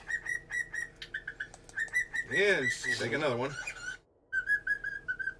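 Pet bird Speckles whistles repeatedly in short bright bursts close by, over a steady patter of background whistles, with a person speaking briefly partway through.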